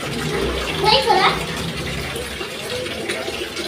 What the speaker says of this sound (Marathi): पाणी का चालतं